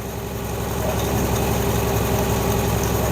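A 1961 Nash AMC Metropolitan barn-find car idles smoothly and steadily up close, a low, even engine rumble with a regular pulsing rhythm and no other sounds.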